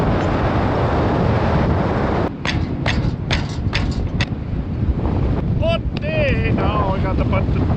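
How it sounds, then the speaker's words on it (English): Steady wind roars across the microphone 60 feet up in the air, loud and constant throughout, with short bursts of speech-like sound and brief tonal squeaks toward the end. "it actually is breezy up here"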